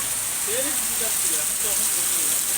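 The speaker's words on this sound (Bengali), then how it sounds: "বৃষ্টির অবস্থা দেখো।" Steady, loud rain hisses throughout as a constant wash of noise, while a voice speaks briefly underneath.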